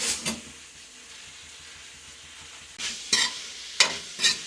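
Chopped onions sauté in a pan with a low steady sizzle, then several sharp bursts of stirring and scraping toward the end.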